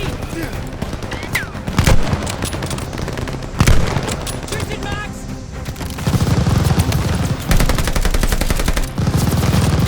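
Machine gun fire rattles in the Call of Duty Vanguard Merville, France 1944 battle, loud dense bursts of gunshots and booms layered over constant battlefield noise, with sharp peaks near the second and fourth seconds.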